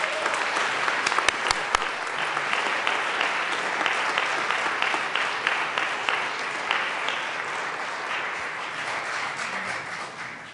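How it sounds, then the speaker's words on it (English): Sustained applause fills the Colorado House chamber during a 2014 legislative session, dense steady clapping from many hands at fairly loud level throughout, with a few sharper individual claps standing out early on. "Let's give them a round of applause."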